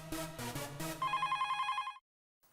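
An electronic telephone ringtone plays a short melodic phrase, then a rapid high trilling ring that cuts off abruptly, heard close in a household scene from a TV comedy.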